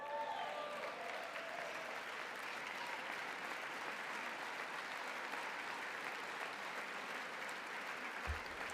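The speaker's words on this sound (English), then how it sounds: "I see some clapping over there now." Audience applause breaks out in a chamber of Congress during a presidential address, a steady, even wash of clapping from a sizable crowd lasting throughout, moderately distant, with faint voices mixed underneath.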